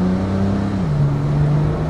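A Porsche Techart GTstreet R engine pulls hard and loud from close by, a continuous droning tone that dips briefly and then climbs steadily under acceleration.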